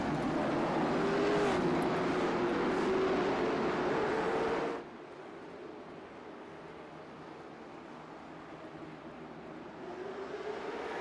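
Late model race cars roar down the back straightaway at Nashville Fairgrounds Speedway, a loud dense engine drone with a rising pitch that cuts off sharply midway, leaving a quieter distant rumble that begins building again near the end.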